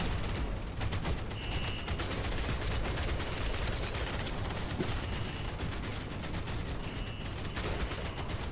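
Automated base turrets fire continuously in the video game Outpost Infinity Siege, a dense, unbroken rattle of gunfire lasting throughout, loud and steady with faint whistling tones appearing now and then.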